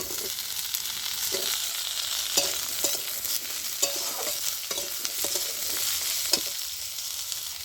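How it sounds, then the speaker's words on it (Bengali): Cut potatoes fry in a pan after the onions have browned, for a potato and greens curry, with a constant sizzle broken by repeated sharp scrapes and clacks of the spatula stirring them; no voices. "এবার আমি কেটে রাখা প্রথমে আলুটা দিয়ে দেবো"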